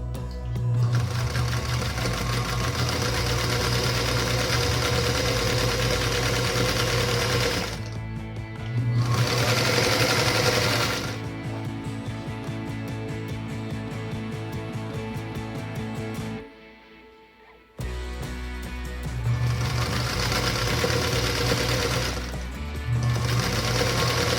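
An electric sewing machine pieces a nine patch star quilt block in long, steady bursts of rapid needle chatter, pausing briefly between runs and going quiet for about a second near the end.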